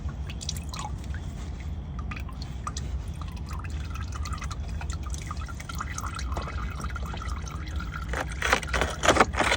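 Engine oil drips from a car's drain during an oil change, a run of soft, irregular liquid drips and trickles that grow busier and slightly louder toward the end, with no talking.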